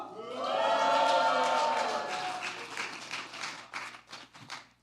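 A church congregation at a New Year special revival service lets out a loud collective victory shout, voices swelling together for about two seconds before breaking into scattered clapping and tapping that fades out.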